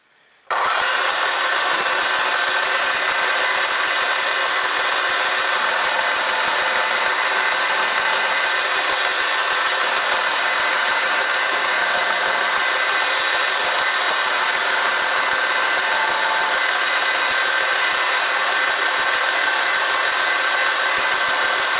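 A power tool whines continuously at high speed, grinding steadily as it cuts and blends metal on eccentric straps for a Stuart 10V model steam engine, for the whole stretch after a brief quiet start.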